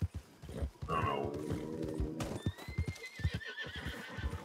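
Horse hooves clip-clop rapidly in a gallop within the Red Dead Online video game, and a whinny sounds near the start. Someone speaks over the galloping.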